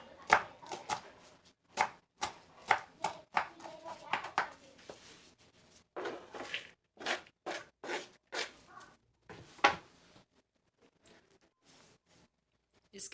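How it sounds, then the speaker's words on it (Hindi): Fresh coriander being chopped with a knife on a board, a string of quick, crisp taps in irregular bursts that thin out near the end, with a voice speaking in between. "और फ्रेश धनिया यानी सब्ज़ धनिया वो काट कर ऐड कर लेंगे"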